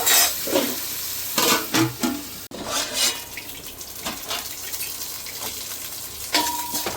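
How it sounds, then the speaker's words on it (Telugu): Onion pieces fry in a covered pan until golden for Nellore-style fish curry, with soft sizzling and bursts of stirring and clattering that stop and start over the whole stretch. "బాగా ఎర్రగా గోల్డెన్ రంగు వచ్చినంత వరకు వేపుకోవాలి మూత పెట్టుకొని."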